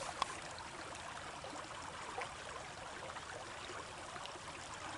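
A mountain creek flows steadily with a soft, continuous wash of water, near and even throughout with no voices.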